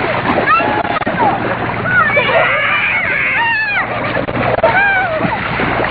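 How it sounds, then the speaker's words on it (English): Kids splashing in sea water at a beach, with continuous close, loud splashing and churning water, while children's voices shout and squeal over it throughout. "Don't splash on the camera"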